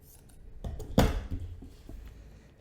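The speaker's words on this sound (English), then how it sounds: "And now basically what you can do is simply cut the yarn" Scissors make one sharp snip through crochet yarn, with a few soft handling clicks before and after. It is quiet and close, with no talking.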